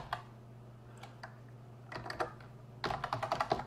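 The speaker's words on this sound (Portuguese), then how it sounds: "Então, a gente vai digitar igual" A formula is typed into Microsoft Excel on a computer keyboard: a few scattered key taps, then a quick close run of clicks, over a low steady hum.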